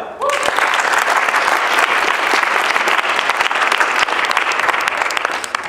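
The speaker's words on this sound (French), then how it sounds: "Je vous demande d'applaudir Elliot Noël." Audience applause for a speaker at a French student debate contest, a dense, steady wash of clapping from a large crowd that swells in quickly and holds loud for several seconds before easing slightly.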